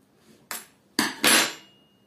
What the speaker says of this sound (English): We are going to use this screwdriver head, just a quarter of a turn.